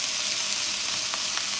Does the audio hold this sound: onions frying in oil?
yes